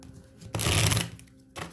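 Tarot cards shuffled by hand in a short loud burst of riffling, with a softer flutter of cards trailing off near the end.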